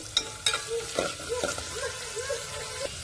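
Onion and green chilli frying in oil with mustard seeds and fenugreek for a tomato and broad bean curry, a soft sizzle under repeated scraping stirs of a spoon against the pan, fairly close, with no talk.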